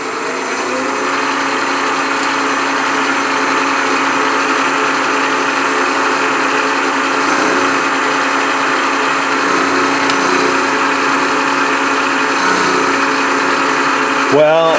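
A 3-flute carbide Niagara end mill cutting 4140 pre-hardened steel in a machine shop, giving a steady whining machining drone with layered tones that holds unbroken for the whole stretch.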